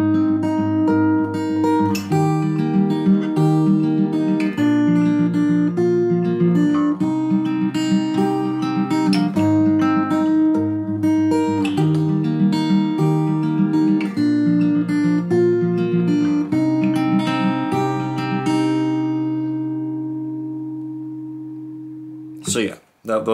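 An acoustic guitar is fingerpicked through the chords of a song at normal tempo, a close, clear, repeating pattern lasting about twenty seconds before it rings out and stops.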